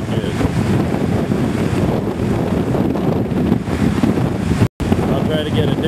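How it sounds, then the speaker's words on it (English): Strong gusts and waves batter a beached Catalina 27 sailboat on Lake Isabella, California, its keel dug in; loud, steady wind buffeting the microphone with surging water noise and a brief dropout near the end. "the wind is stronger today, so as you can see, the waves hitting the beach of the boat are a little bigger"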